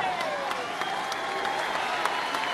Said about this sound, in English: There's clapping involved in this.